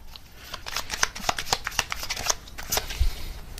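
Tarot cards shuffled and drawn by hand at a reading, a quick run of crisp riffling snaps and flicks spread across a few seconds, close and fairly clear with no talk over it.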